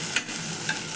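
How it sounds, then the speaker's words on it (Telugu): Stirring in hot oil in a pan for spinach red lentil dal gives a steady close sizzle with a couple of soft scraping clicks, brief and without any voices. "నూనె వేడి చేసుకున్నాను. కొంచెం ఇలా కలుపుతున్నాను."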